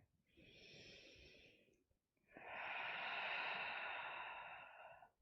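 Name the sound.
deep breathing during yoga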